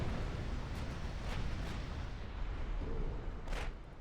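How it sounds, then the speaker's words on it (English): Torpedo impact in the naval battle game Ultimate Admiral Dreadnoughts, a deep rumbling explosion amid continuous low booming battle noise, dull and moderately distant with a brief sharper burst near the end. "That was a torpedo impact."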